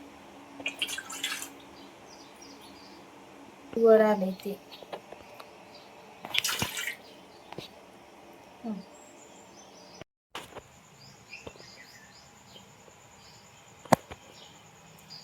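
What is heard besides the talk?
water dripping from squeezed wheat pulp for kurdai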